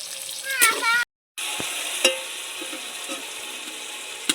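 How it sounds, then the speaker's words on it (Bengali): Soaked tomatoes hitting hot oil with panch phoron spices, a loud close sizzle with spoon clinks and stirring, briefly cut to silence before the frying hiss resumes steadily; a voice speaks faintly near the start. "পাঁচফোড়নটা হয়ে যাওয়ার পর এবার দিয়ে দিচ্ছি ভিজানো টমেটো"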